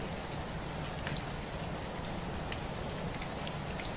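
Steady rain pours outside a window onto a dark street, a dense even patter with occasional sharper drops, continuous and moderately loud with no voices.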